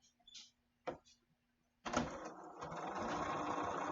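A Bernina 4, 5 or 7 Series sewing machine stitching a seam: a few faint clicks of the presser foot, then a steady, close motor whir that continues without a break.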